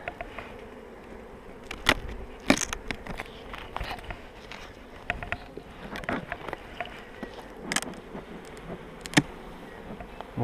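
Honey bees buzz around an open hive during a spring inspection, a steady low hum with scattered knocks and rustles of frames being handled, close and moderately loud, with no talk.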